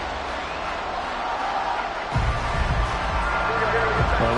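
Football stadium crowd roars and swells loudly, a dense sustained wash of voices that grows louder partway through, heard during a third-and-ten play with a commentator's voice over it.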